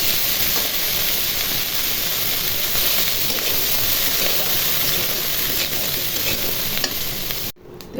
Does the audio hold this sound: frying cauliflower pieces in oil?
yes